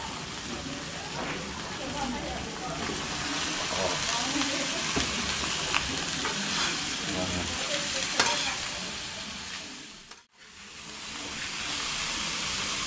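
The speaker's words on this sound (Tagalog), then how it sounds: "nagisa na natin ng mga katakbo yung alamang sa sibuyas at bawang. And then, ito namang gulay ang ihulog natin" Vegetables dropped into a pan of shrimp paste sautéed with onion and garlic, sizzling and frying steadily and fairly close, with stirring scrapes and a brief dip near the end.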